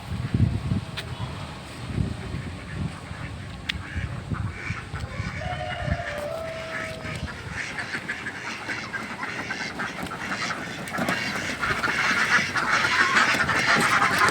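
Khaki Campbell ducks quack in a busy outdoor farm setting, scattered harsh calls mixed with rustling and noise that grows louder toward the end.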